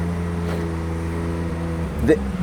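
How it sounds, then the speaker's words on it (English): A tuned car's engine hums with a low, steady intake drone close by, and a short whoosh rises near the end under light talk. "it's such an interesting thing to hear the intake noise."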